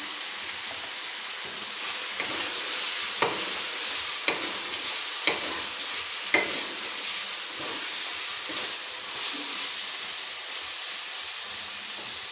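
Ground cumin sizzles in hot oil in a pan while being stirred for a tinda curry: a steady hiss with soft, irregular scraping knocks from the spoon, close and fairly quiet, with no talking.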